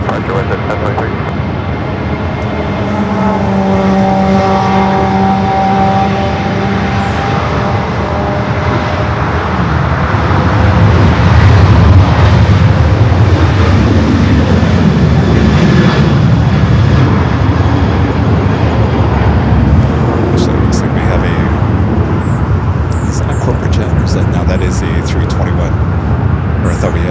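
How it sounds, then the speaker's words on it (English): A jet airliner takes off from runway 24 left at LAX, a loud sustained engine roar that swells and fills the air for nearly half a minute, with someone talking over it. "Super takeoff, 24 left"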